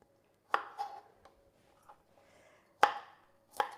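A knife chops broccoli into small pieces on a cutting board in a few sharp, irregular thuds with quiet gaps between, close and fairly crisp.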